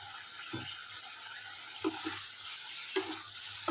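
Fish curry in the Assamese style is stirred in a pan after ginger garlic paste goes in with partly cooked potatoes and eggplant. Soft, faint scraping strokes come every second or so over a low background sizzle.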